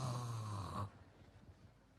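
A voice imitates loud snoring, mimicking a bare-chested person sleeping, with a rough, rattling rhythmic snore for under a second before it drops to quiet room noise.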